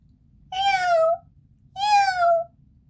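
A cat gives two clear, loud meows, each about half a second long with a short pause between, heard up close over a quiet background within a narrated children's folk tale.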